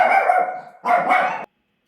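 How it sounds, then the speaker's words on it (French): Dogs bark indoors in two loud, close bursts, the first long and the second shorter, then sudden silence. "Excusez-moi, j'ai les chiens qui ont aboyé."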